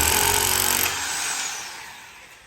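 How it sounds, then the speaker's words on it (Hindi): A drill hammer breaks away part of a concrete pillar during a goat shed extension, a loud, dense grinding hammering that runs steadily for under a second, then trails off into a fading, quieter rumble. "इसके साइड पे ये वाली जो जगह है ये हम तोड़ देंगे हमर से, ड्रिल हमर से।"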